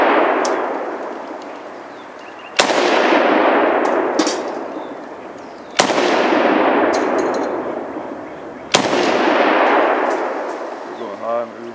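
Pocket-sized AK pistol fired at a steel plate about 70 yards away: four loud, sharp shots spaced a few seconds apart, each followed by a long rolling echo, with faint metallic pings from hits on the plate.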